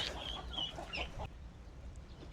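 Fluffy chickens cluck softly inside their coop in a short burst of calls before settling into quiet.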